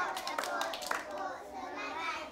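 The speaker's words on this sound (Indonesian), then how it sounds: "tepuk semangat untuk mereka" Preschool children in a Malay-language classroom clap together in a quick burst of scattered hand claps that fades into soft chatter, heard fairly faintly at a distance.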